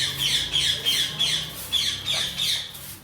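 Repeated harsh, high-pitched parrot squawks in a steady rhythm, loud and close, with faint background noise.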